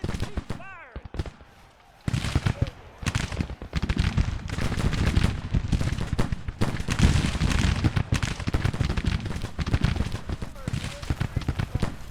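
Dense, continuous crackle of rifle volleys mixed with booming cannon fire from a Civil War battle at Winchester in the Grand Tactician strategy game, loud and sustained after a brief quieter opening.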